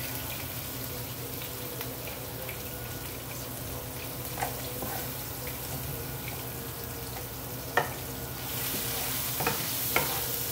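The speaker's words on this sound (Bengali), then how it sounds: "এতে আমি পেঁয়াজটা অ্যাড করছি।" Onions sizzle in a hot pan with a dense, continuous crackle. Occasional light stirring clicks sit on top, and the frying grows a little louder near the end.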